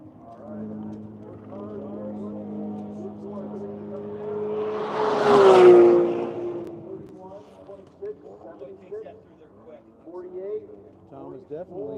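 Race cars lapping a track, including a Supra, one passing close with a loud engine swell around the middle and fading away, with other engines distant and people talking throughout.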